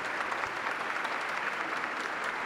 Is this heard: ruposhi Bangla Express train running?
no